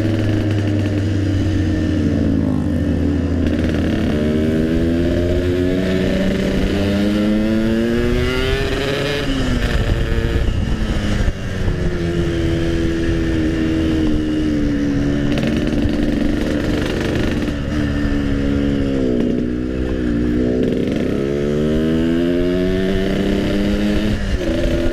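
A Yamaha RX King motorcycle revs hard and steadily, its two-stroke engine rising and falling in pitch through repeated throttle blips, loud and close throughout.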